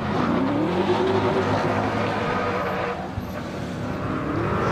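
A Coupe de France de Drift car launches onto the circuit at Croix-en-Ternois, its engine droning loud and steady with a rising pitch sweep early on, accompanied by broadband tire and exhaust noise throughout.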